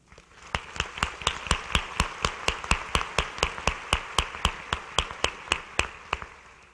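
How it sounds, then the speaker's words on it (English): An audience at a 2015 Waterloo Schools Foundation opening day gathering claps in a clear, regular rhythm, about twenty evenly spaced sharp claps that build and then trail off, close and distinct. "Please give a round of applause for Emily Hansen"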